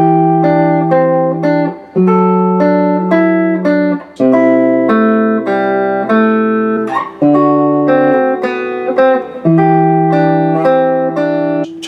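Clean plucked notes and intervals are played on the middle strings of a Gibson VOS Melody Maker guitar, each phrase ringing out before the next in an unhurried, close sequence, with no voices.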